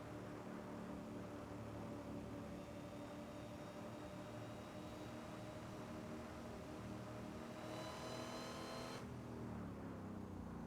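A Cadillac driven in the Assetto Corsa racing game hums with a steady engine drone at constant revs, faint and continuous, the tone shifting slightly as it cruises, with a brief brighter burst late on.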